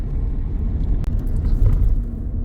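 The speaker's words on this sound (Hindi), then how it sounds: "इधर हमारी हिमाचल रोडवेज की बस आए है" A Himachal Roadways bus arrives on a hill road, a steady low engine rumble close by with a faint vehicle swell midway and a brief sharp knock, no talk over it.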